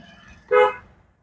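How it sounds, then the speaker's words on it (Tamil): A single short car horn toot sounds close by, sharp and loud, over faint low engine noise, during a driving lesson. "ஒரு தடவை ஹாரன்"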